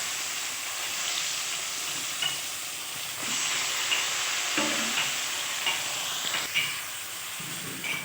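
Prawns hit hot oil seasoned with salt and turmeric, raising a loud continuous hiss and sizzle with a few stirring scrapes and taps, and no voices.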